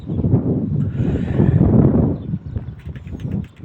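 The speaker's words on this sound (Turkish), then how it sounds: "bayağı aşırı bir rüzgar var" Strong gusting wind buffets the microphone outdoors, a heavy low rumble that swells and eases unevenly across the whole stretch.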